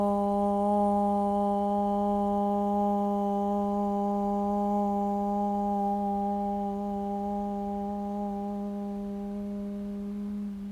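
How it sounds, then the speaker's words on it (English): A sustained chanted Om hums steadily for about ten seconds at the close of a yoga practice, a single long, even tone that slowly fades, with no talking. "seal our practice with one final Om"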